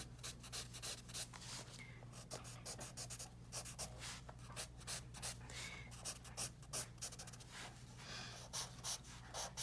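Soft chalk pastel strokes scrape and rub across paper in quick repeated passes, faint and close, with a low steady room hum underneath.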